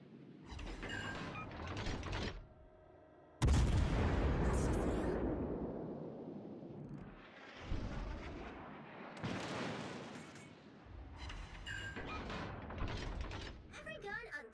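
Naval guns blasting at a target in a video game: heavy booming salvos with long rumbling tails, one especially loud and close, mixed with mechanical clanking between volleys.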